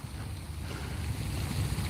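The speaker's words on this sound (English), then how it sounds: "the sound of the fountain just helps out the ambiance of everything" Water splashes continuously from a fountain in a pond where geese gather, a steady, fairly close wash of noise with a low rumble and some wind, no voices.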